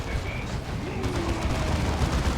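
Explosions and gunfire from a Dawn of War 2 real-time strategy battle form a dense, continuous rumble with scattered sharp bursts, loud and steady with no speech.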